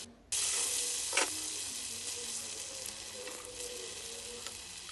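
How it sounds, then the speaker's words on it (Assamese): Vegetables hit hot oil in a wok with a sudden loud sizzle, then fry in a steady, close hiss with occasional crackles and no talking. "কেৰাহীত তেল লৈ পেলাই এতিয়া মই গোটেইখিনি ফ্ৰাই কৰি ল'ম।"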